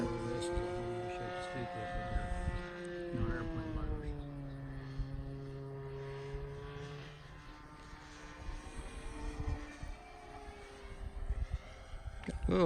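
An RC T-34 Mentor model airplane engine whines through a pass at the flying field, its pitch sweeping down as it flies by, with people talking over it.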